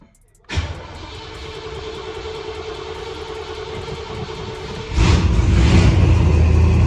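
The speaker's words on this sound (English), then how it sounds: "I'm actually gonna try to fire this thing up and see if it'll start." A car engine cranks and catches abruptly, settling into a steady idle rumble before the revs climb to a louder, rougher roar near the end.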